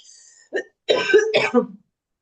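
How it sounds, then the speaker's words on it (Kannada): A man with a heavy cough coughs in a short burst of several rough, close hacks after a brief throat sound, during a quiet reading class, with no talk over it. "ಸಾರಿ, ಇವತ್ತು ಕೆಮ್ಮು ತುಂಬಾ ಇದೆ."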